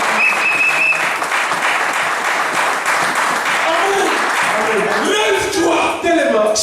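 A church congregation applauds during an evangelical worship service, with sustained, dense clapping running throughout and voices mixed in with the applause.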